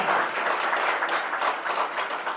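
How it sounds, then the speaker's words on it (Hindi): Loud, dense clapping from an audience at a welcome and honours ceremony fills the whole stretch, rising and falling slightly in waves with no speech over it. "जोरदार तालियां।"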